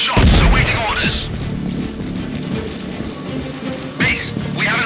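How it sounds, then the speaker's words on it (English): An explosion booms loudly at the start in the video game Sniper Ghost Warrior Contracts 2, followed by a rumbling tail and another burst near the end, with game ambience between. "Base, we have an explosion in Sector 4."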